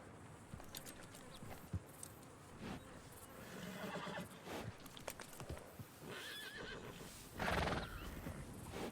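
A horse neighs loudly in Red Dead Redemption 2 while hunting a rare piebald tobiano Hungarian Halfbred, with clip-clop hoof steps and outdoor ambience throughout and a strong whinny burst late on.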